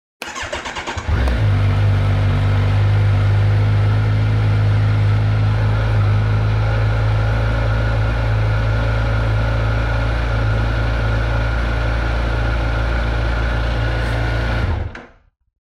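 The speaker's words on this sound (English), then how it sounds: "I'll go ahead and start the bike up" Kawasaki Ninja 1000SX motorcycle engine cranks and fires after a brief starter whir, then settles into a steady, loud, close idle that holds for over ten seconds before cutting off abruptly.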